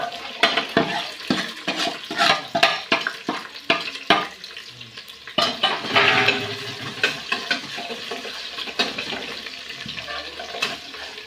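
Onion and garlic fry in oil in a pan for a dal and rice dish. A constant sizzle runs under repeated scraping stirs that come in quick bursts, with a busier, louder stretch midway.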